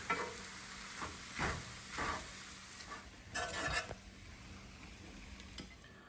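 Eggs sizzle steadily in a hot cast iron pan while a utensil scrapes and stirs in a few distinct bursts, close and moderately quiet with no talking.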